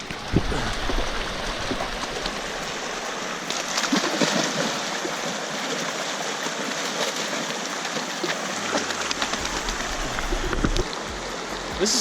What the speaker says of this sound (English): I didn't know there was a river that ran right here.